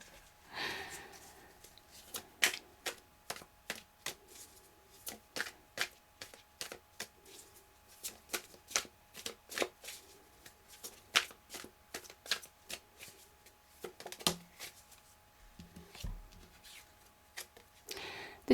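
Tarot cards are shuffled close up in a quiet room, a long run of crisp riffling flutters and soft slaps in uneven bursts, with no talking.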